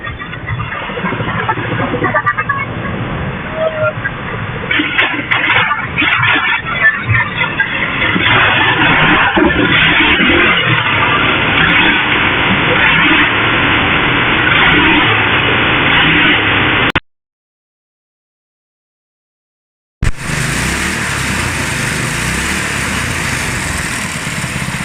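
A go-kart engine with its original exhaust runs loud and close, revving and droning continuously, cuts to a few seconds of silence, then roars back up at full volume.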